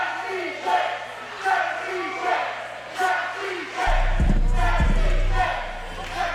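A wrestling event crowd chants in a steady rhythmic pattern, repeating the same short phrase roughly every half second to second, loud and full across the arena, with a heavy low thump joining partway through.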